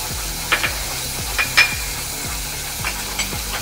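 Masala of garam masala, red chilli flakes, crushed cumin, chaat masala and salt roasting in a pan, with a soft steady sizzle and repeated scraping stirs of a spoon at a fairly even rhythm, close by and without talk.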